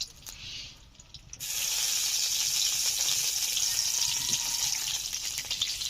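Oil for a Bengali boal fish curry, left over from frying fish, sizzles loudly in a pan. A quieter start is followed by a sudden strong steady hiss after fresh oil is added, close and unbroken.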